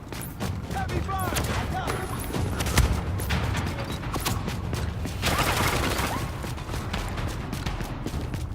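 Heavy gunfire in the video game Tom Clancy's The Division, a steady dense barrage of shots with booming impacts running throughout, with game voices calling out over the din.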